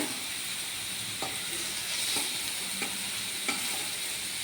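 Pieces of snake gourd (chichinga) fry in a pan over a gas flame, giving a steady close sizzle with occasional faint stirring clicks and no talking.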